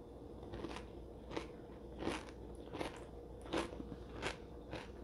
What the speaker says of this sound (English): So let's go ahead and try a bite.